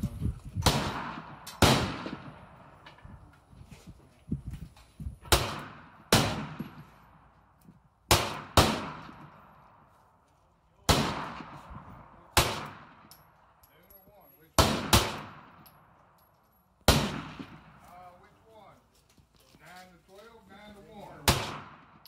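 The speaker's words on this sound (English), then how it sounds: "he still did pretty good for the first time ever shooting a real pistol" A pistol fired at an outdoor shooting range by a first-time shooter: about a dozen loud, sharp reports in an uneven rhythm, some in quick pairs and others a few seconds apart, each with a short echoing tail.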